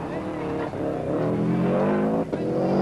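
A Subaru rally car at speed on a 1993 Ulster International stage, with a steady, loud engine roar throughout and brief dips in the drone, heard beneath continuous commentary.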